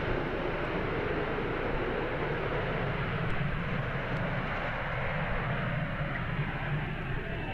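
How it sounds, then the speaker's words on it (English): A US Navy F-35 jet on a wet runway, its engine a steady, loud, broadband roar that holds evenly throughout with no other sounds. "the US Navy, that's the F-35s we're actually looking at the moment"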